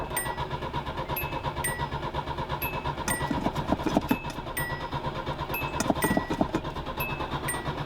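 Starter cranking the engine of an old Japanese classic vehicle being rescued, a steady churning mechanical drone with pulsing bursts, moderately near and without speech.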